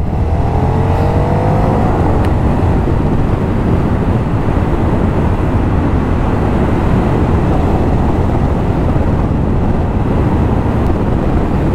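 KTM 1390 Super Duke R Evo motorcycle engine revving and pulling hard under acceleration, a loud continuous roar that stays close and steady throughout with no talk over it.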